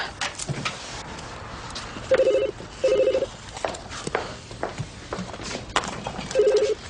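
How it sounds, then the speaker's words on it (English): A telephone rings in three short electronic trills spaced apart, over a busy background of movement and clatter. "when the telephone makes that funny ringing noise, you pick up the receiver"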